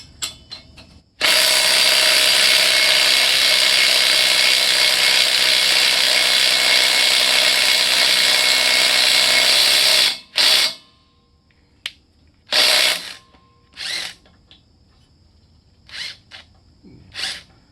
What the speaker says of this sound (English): I'll try putting a little impact action on it.